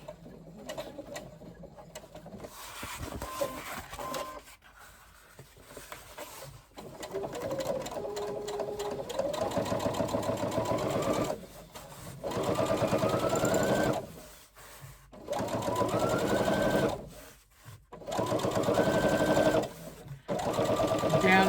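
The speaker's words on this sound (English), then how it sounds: "I'm just top stitching with my domestic" A domestic sewing machine top stitches a waterproof canvas backpack, running in long steady whirring bursts separated by short pauses, with a person talking at times.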